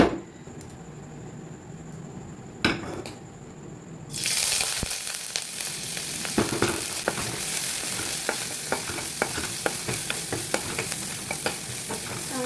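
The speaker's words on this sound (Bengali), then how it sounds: "এটাকে ঘুরিয়ে নিয়ে এবার ভাজবো" Onions hit a little white oil in a nonstick pan and fry for chowmein: a quiet start, then a loud, continuous sizzle with repeated spatula scrapes and taps as they are stirred.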